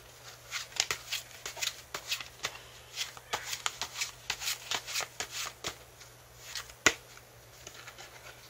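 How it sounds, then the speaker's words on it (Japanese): Lenormand and tarot cards being shuffled by hand, a rapid series of crisp riffling and slapping bursts, close and fairly loud, with a short pause near the end before one sharp snap. "アドバイスもう一枚引きますね"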